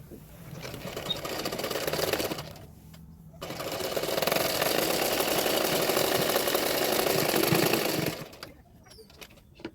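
A sewing machine stitches a katori blouse for a fitting, running in steady whirring bursts with a short pause between them, then stopping, all fairly close and clear.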